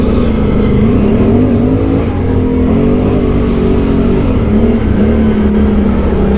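Quad ATV engine revving hard on a smooth dirt trail, a loud, close, steady roar with its pitch rising and falling as the throttle works, with no talk over it.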